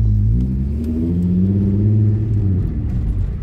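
A Nissan R32 conversion's engine rumbles loud and close, holding a deep, steady revving drone with shifting harmonic pitch for several seconds and no talk over it.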